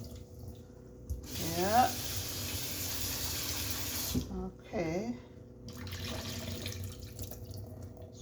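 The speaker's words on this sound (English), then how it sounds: "Rinse off the sweet pepper and the tomato." Tap water runs steadily into a sink while a sweet pepper and a tomato are rinsed, with brief splashy surges as the vegetables shift under the stream; a person speaks a couple of short words over the flow.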